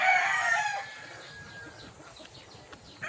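Gamefowl rooster crowing once near the mic, a loud harmonic call that fades out over a couple of seconds, followed by faint clucking and quiet background.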